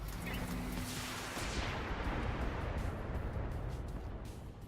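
Mech weapons including an AC-20 autocannon firing in BattleTech, from a Trebuchet mech in a desert, a heavy blast that becomes a dense, sustained roaring rumble that slowly fades over several seconds.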